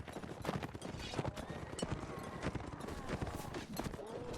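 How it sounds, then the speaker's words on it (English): Horse galloping in Mount and Blade Warband, a rapid rhythmic clip-clop of hooves close by and fairly quiet, continuing steadily throughout with faint game ambience beneath. "My horse is"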